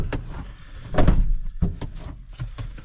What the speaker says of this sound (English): making a load of noises slamming the door